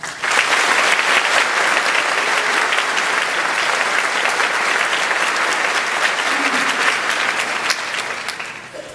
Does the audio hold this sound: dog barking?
no